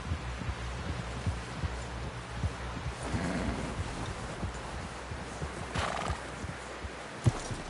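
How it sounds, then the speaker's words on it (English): A horse clip-clops along in a steady rhythmic gait, hooves thudding clearly at moderate distance, with a brief whinny or snort and faint background ambience. "Someone help John down off this horse."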